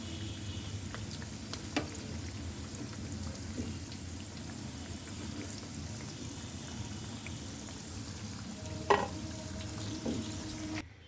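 Chicken and potatoes frying in hot oil, a steady crackling sizzle with scattered pops that runs without pause, plus a sharper clink near the end.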